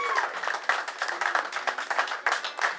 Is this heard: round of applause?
yes